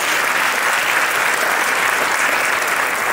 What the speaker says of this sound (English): Give both of them a very big applause.